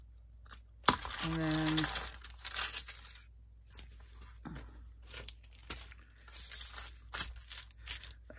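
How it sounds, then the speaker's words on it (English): Paper is cut along its edge for a travel journal, a short crisp ripping stretch followed by scattered soft crinkles and rustles, near and quiet, with a brief spoken word over it. "I'm just going to cut this down a little bit along the edge"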